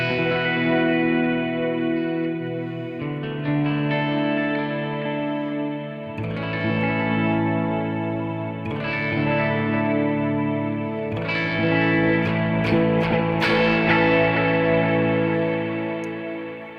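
An electric guitar plays a clean tone through a compressor pedal with delay and reverb, ringing chords and notes echoing and washing into one another in a continuous, shimmering stream.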